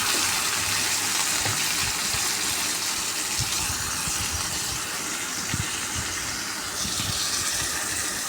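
A bowl of water is poured onto chicken frying in oil with bay leaf, cardamom, ginger, garlic and cumin paste, producing a loud, steady sizzling hiss that persists throughout, with small pops and crackles scattered through it.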